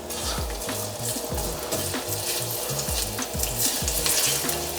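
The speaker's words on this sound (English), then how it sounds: "A touch of oil. Put my ginger in there." Ginger frying in hot oil in a wok for a carp and vegetable stir-fry, a loud, steady sizzle with the rhythmic scrape and clatter of stirring throughout, close up and alone.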